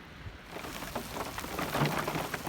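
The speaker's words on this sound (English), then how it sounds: "I'm started hearing some thunder." Steady rain with hail falls during a summer thunderstorm in Colorado, heard from inside a parked van; a dense, continuous patter fills the clip with soft rumbling thunder underneath, and no one speaks.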